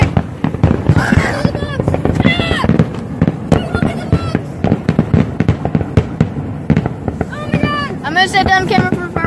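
Fourth of July fireworks bang and crackle in rapid succession, loud and close, with people talking and exclaiming over the bursts.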